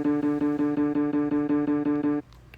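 A repeating electronic synth line from My Singing Monsters Composer, the video game, plays notes in a steady pulsing rhythm, loud and sustained, then cuts off abruptly near the end.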